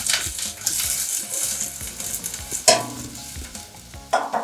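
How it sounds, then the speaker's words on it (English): Onion frying in a pan, soon to be joined by French beans: a steady close sizzle, with a spatula stirring and scraping the pan several times and a sharper clatter near the middle and the end. "just want the onion to cook until it's soft"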